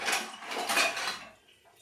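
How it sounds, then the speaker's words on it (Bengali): Pieces of taro tumble into a metal bowl in a brief clattering burst, close and fairly quiet, fading out after about a second. "আমি গামলা ঢেলে নিলাম কচুগুলো।"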